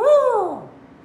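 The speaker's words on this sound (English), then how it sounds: "owls do make a hooting noise" A single barred owl hoot, a clear, descending call about half a second long that drops in pitch and fades into quiet, heard close and alone.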